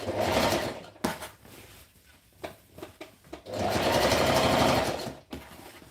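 Sewing machine hemming a V-neck shirt, whirring in a short burst, then a stretch of stops, clicks and light handling, then a second longer steady run of stitching, close and moderately loud.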